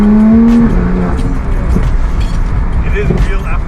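A Porsche 991.2 GT3 engine revs, its rising tone opening loud and close before settling into a steady roar, while someone talks over it.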